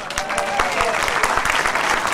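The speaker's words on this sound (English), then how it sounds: "The clapping has already died down a little bit" Studio audience clapping as a male contestant is welcomed on a game show, a lively burst of many hands with a few sharp distinct claps standing out, somewhat close and fairly loud.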